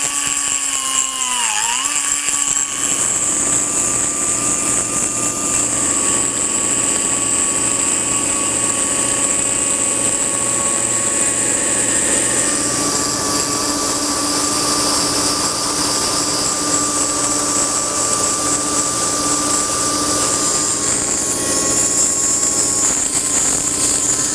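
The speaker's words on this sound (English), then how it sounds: "I'm gonna just basically open up this whole area with a die grinder" Die grinder cutting into a pinion bearing area during a truck axle and differential rebuild, a loud steady high-pitched whine that runs continuously close by with slight shifts in pitch.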